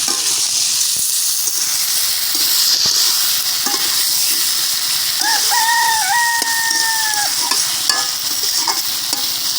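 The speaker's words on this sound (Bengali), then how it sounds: "এই যে মোরগ মিউজিক দিল, তাই না?" A rooster crows once from somewhere nearby, a single drawn-out call rising over the loud, constant hiss of eggplant and pumpkin sizzling in a pan.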